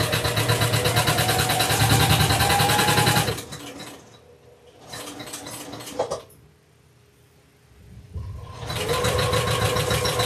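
A sewing machine stitches slowly through stretchy minky fabric on a baby quilt. Rapid mechanical stitching runs for about three seconds, gives way to a short stop-start burst and a quieter pause, then resumes steadily.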